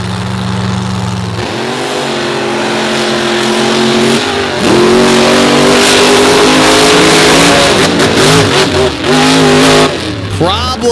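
Monster truck engines revving at the start of a racing matchup at the Monsters On The Beach show, loud roaring surges that climb in pitch, with an announcer talking over them throughout.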